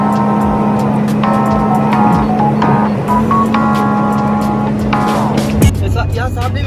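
A car speeds along a highway in Kuwait, giving a loud, steady engine and road drone with a constant hum, brief whines and passing whooshes, and a sharp shift in pitch near the end.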